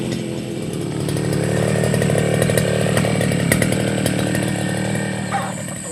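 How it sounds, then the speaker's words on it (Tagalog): Motorized grass cutter running continuously in an overgrown farm field, a loud, steady buzzing engine drone with slight rises in pitch as it works through the vegetation, no talking. "Grass cutter."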